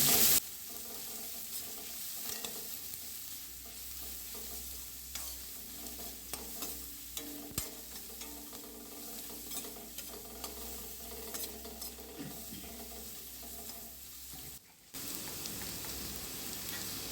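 Grated carrot and chopped green chillies sauté in a pan for millet khichdi, a steady close sizzle with stirring scrapes and light clatter running throughout, with no talk.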